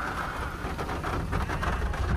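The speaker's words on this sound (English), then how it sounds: "the rain's so loud on the roof" Heavy rain drums steadily on a vehicle roof during a storm, a dense, continuous hiss and patter close overhead with no voices.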